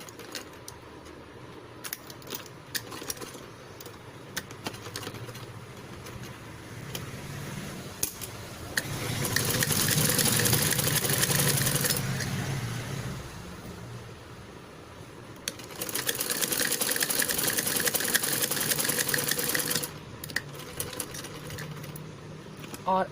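A sewing machine stitches blouse lining in two sustained bursts of rapid whirring, with quieter handling and rustling of fabric between runs, fairly close.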